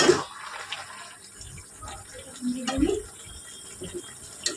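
Water is poured into a pot of cooking potatoes and teasel gourd, making a short splash and trickle, with soft clatter around it and faint background voices.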